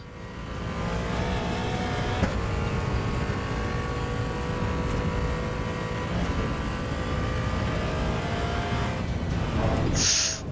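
A car drifting around the Nürburgring in the racing game Assetto Corsa EVO, its engine a loud, steady drone throughout with a brief sharp hiss near the end; no one talks.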